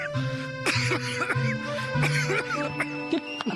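A person coughs in a short run of rough, throaty bursts, close by, over a steady musical drone of tones in the background.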